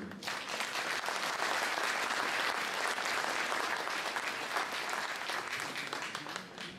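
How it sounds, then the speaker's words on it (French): Sustained, dense applause from an audience welcoming Vietnam's minister at an evening inauguration ceremony for a sixth edition, steady and full throughout before easing slightly at the end. "je vous demande d'applaudir"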